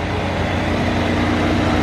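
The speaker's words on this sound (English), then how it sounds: "They just fired it up. Take a listen to that Formula One engine." The Mercedes-AMG Project One's Formula One engine, just fired up, makes a dense, steady mechanical drone with a deep low-end rumble. It is loud and close, it holds constant throughout, and no voices are heard.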